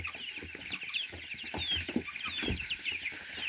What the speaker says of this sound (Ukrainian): Курчатка мехалинської зозулі.